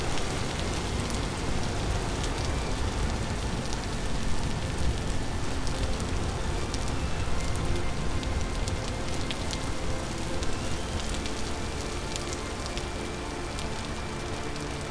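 Steady, dense rain falls in the video game Vintage Story, a constant close hiss of drops on surfaces that holds evenly without pause.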